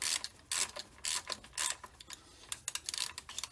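Hand ratchet tightening a 15mm bolt on a Jeep Cherokee timing-belt tensioner, quick bursts of clicking pawl strokes in irregular rhythm, fairly quiet and close, no voices.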